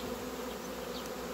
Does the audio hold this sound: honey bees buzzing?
yes